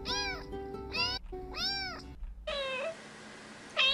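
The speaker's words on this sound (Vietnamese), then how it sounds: "Con mèo đéo thì kêu kinh thế nhở" A cat meowing from a cat video playing in the background, four drawn-out, clear meows spaced across the stretch, loud and close with no talk over them.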